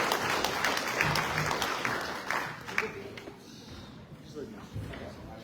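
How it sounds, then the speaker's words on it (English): Audience applause for two school board candidates at a chamber of commerce candidate forum, a steady wash of clapping across the whole stretch with a few louder claps standing out. "Let's give a round of applause to our two candidates for tonight, Missy Merritt and Daniel Gantt."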